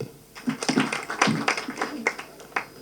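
Scattered hand claps from a small group at a school tournament ring out irregularly, close and uneven, tapering off without building into full applause.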